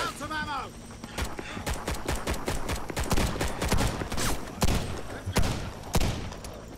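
Rapid sniper and automatic gunfire in the video game Warface cracks in dense, repeated bursts, with a player's voice talking over the shooting.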